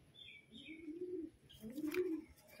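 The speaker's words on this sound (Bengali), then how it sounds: "এই পায়রাটা হচ্ছে কালদমা ম্যাড্রাস পায়রা, খুবই সুন্দর একটা পায়রা" A black-tailed Madras pigeon cooing up close, two soft rolling coos in quick succession with faint chirps in between.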